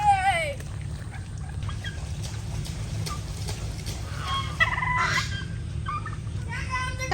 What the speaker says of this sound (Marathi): इथे बघू शकता काय काय आहे कोंबडा आहे कोंबडी आहे बदक आहे आणि ते का रे टर्की टर्की म्हणतात